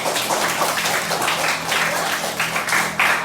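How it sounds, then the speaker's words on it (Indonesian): Classroom students clap together in a dense, continuous burst of applause lasting a few seconds, fairly close and loud, with a faint murmur of voices beneath. "Tepuk tangan"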